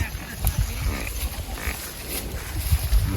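A water buffalo on a farm during cumin harvest gives low, rough grunting calls in short bursts, heard close amid a person talking.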